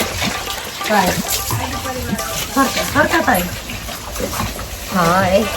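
Freshly pulled beetroots being washed in water outdoors, with swishing and splashing running steadily under loud, close voices of people talking throughout.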